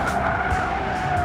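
1973 Porsche Carrera RS 2.7 tires skidding and scrubbing through a corner while understeering, a steady sustained squeal over continuous engine drone from inside the car.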